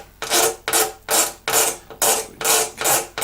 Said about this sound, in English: just scrape these out before sanding